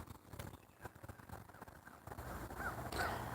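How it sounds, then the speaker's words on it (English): Crows caw faintly in the distance near a filling pool outdoors, with a couple of short calls toward the end over quiet ambient rustle. "There's some crows in the background."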